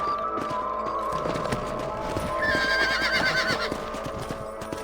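Rhythmic hoofbeats clip-clop steadily while a horse lets out a high whinny midway, all over a sustained tonal backdrop, in the video game Red Dead Redemption.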